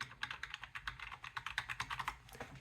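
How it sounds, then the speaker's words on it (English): Typing on an ergonomic keyboard fitted with light, quiet plum Cherry switches: a steady, close run of soft, rapid key clicks with no voices. "I got the plum cherry switches, which are really light and really quiet."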